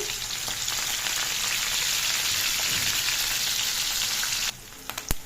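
Chopped onions frying in a pan with curry leaves and coriander for gongura chicken: a loud, even sizzle that stops abruptly near the end, followed by a few sharp clicks.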